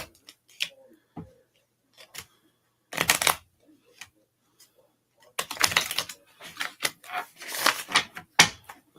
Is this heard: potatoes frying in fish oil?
no